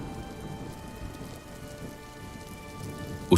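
Heavy rain pours steadily in a dense, close wash, with a low rumble of thunder underneath.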